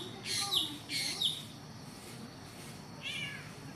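A black bird mimics a cat's meow, giving three short, bright, whiny meow-like calls spaced across a few seconds, fairly faint against a quiet outdoor background with low rumble.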